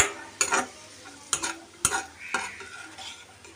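Dry fruits frying in a pan as a spoon stirs them, with a few sharp scrapes and clinks against the metal over a faint sizzle, close and without talk.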